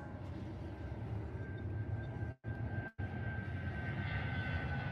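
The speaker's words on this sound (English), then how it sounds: "This plane taking off from a city in Brazil almost took off too late." Airplane taking off from a city in Brazil, a steady loud engine roar with broadband rumble and a faint high whine, briefly cut twice by short silences.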